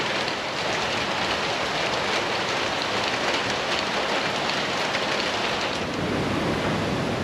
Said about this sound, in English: rain's been going pretty well all night and it's still pretty solid